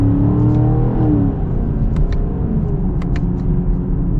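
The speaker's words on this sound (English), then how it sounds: "Now let's see if this has the automatic downshift to the lowest possible gear." A 2022 Chevy Camaro with the LT1 V8 rumbles steadily, its engine note rising in a brief rev as the automatic downshifts to a lower gear, heard close from inside the car with a few faint clicks.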